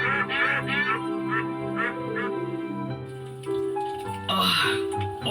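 Cartoon ducks quacking in a rapid, loud, close string of nasal calls, with a few shifting voiced tones and splashy noise mixed in toward the end.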